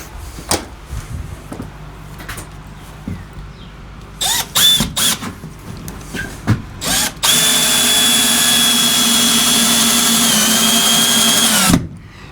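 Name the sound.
drill driving long screws into a workbench beam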